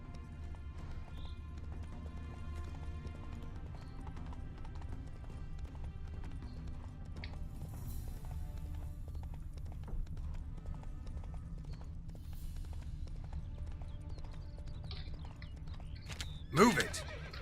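Horse galloping in the video game The Witcher III, a fast rhythmic clip-clop of hooves over a low rumbling game ambience, ending with a sharp loud whinny near the end.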